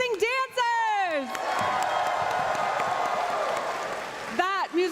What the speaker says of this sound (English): let's hear one more big round of applause for Kylo Moon and our amazing dancers.